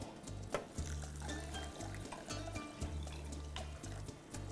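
Two cups of water poured into a cooking pot for lentils, a steady close splashing stream over kitchen background hum with brief pauses between pours.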